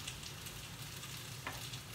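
Cabbage stir-fries in a pan for a miso stir-fry, a quiet, even sizzle with light crackles throughout.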